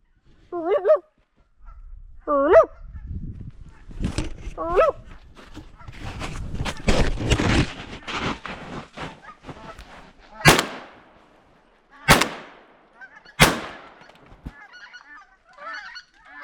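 Geese honk outdoors in the wilderness, with several separate calls spaced across the span, mixed with rustling, a few sharp cracks and thumps, and a human voice speaking in between.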